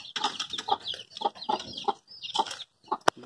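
Chickens cluck in a homemade cage built from an old 21-inch TV box, giving a run of close, rhythmic clucks followed by a short pause and a sharp knock.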